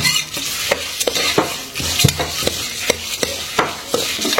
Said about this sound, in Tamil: வெந்தயம் போட்டு துவரம் பருப்பு அப்படியே எண்ணெயில் வறுக்கிறது